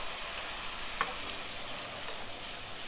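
Green asparagus and spinach sizzling steadily in a pan with sugar and a splash of rum, a continuous bright frying hiss with a brief sharper crackle near the start, no voices.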